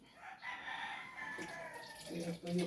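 A rooster crows in drawn-out calls over the low murmur of other chickens in a yard where the flock is given moringa water, fairly close and steady throughout.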